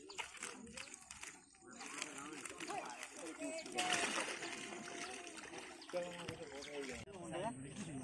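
A fishing net being hauled up out of a pond, with busy splashing and trickling water close by under frequent excited voices talking throughout.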